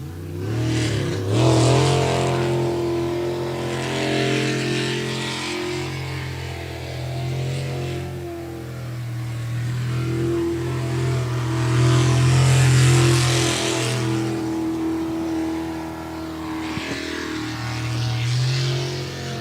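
A sprint race boat powered by a small-block Chevy 350 runs at a race in Salem, Oregon, its steady engine drone swelling and easing over about twenty seconds, loud and continuous with no talk.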